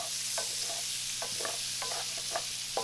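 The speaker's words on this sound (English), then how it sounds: "cook these shrimp up medium heat to medium high heat" U26 shrimp frying in oil in a pan over medium to medium-high heat: a steady soft sizzle broken by repeated short scrapes and knocks as the pan is stirred and shaken, close by and without voices.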